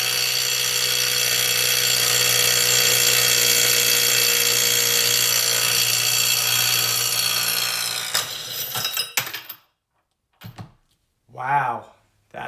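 A Hercules cordless impact wrench from Harbor Freight breaks loose a bolt torqued to about 156 foot-pounds, hammering loud and steady for roughly eight seconds before stopping, followed by short clanks and a voice.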